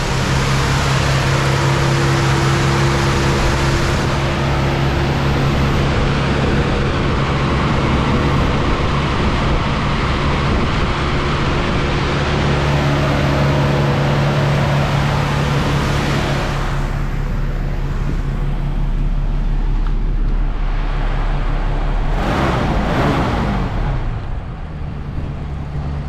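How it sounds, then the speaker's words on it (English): A 1966 Ford Mustang with a 289 V8 and basic three-speed runs at a steady, loud idle, its low rumble holding evenly throughout with no other noises. "listen to that engine"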